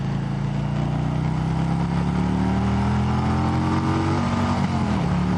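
A 2018 Harley-Davidson motorcycle engine revving hard while overtaking on the road, a loud, continuous throaty roar with rising pitch as it climbs toward the limiter, mixed with wind rush and no talking.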